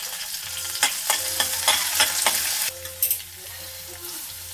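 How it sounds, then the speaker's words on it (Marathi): Curry leaves fry in a pan of hot oil, crackling and sizzling steadily while a spoon scrapes and taps the pan in quick, irregular strokes, close and fairly faint. "कढीपत्ता ॲड करून झाला की ते थोडं फ्राय करून घ्यायचं मिश्रण."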